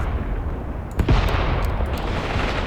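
Mortar shells exploding in the war game Graviteam Tactics Mius Front, a sharp close blast followed by scattered smaller cracks and rumbling over steady battlefield noise.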